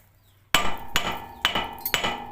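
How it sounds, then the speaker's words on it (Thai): Four sharp hammer blows ring out on a metal car suspension ball joint, evenly spaced about half a second apart, loud and close. "เอาค้อนนะครับนี่ครับตีเข้าตรงนี้นะครับนี่"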